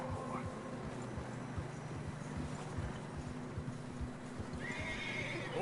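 Horses in snowy terrain in Red Dead Redemption 2, a video game, plod with steady clip-clopping hoofbeats up close, with a whinny near the end over a low ambient drone.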